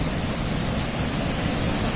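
A river swollen after several days of rain rushes loudly and steadily, a dense broadband roar that fills the whole stretch with no pauses.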